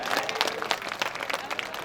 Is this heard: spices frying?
no